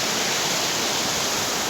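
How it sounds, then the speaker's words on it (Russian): The Tikhvinka river, unfrozen in winter, flows past with a steady, dense rushing hiss. It is close and loud, with no voices over it. "вот река Тихвинка, она не замерзает, там вот плавают уточки"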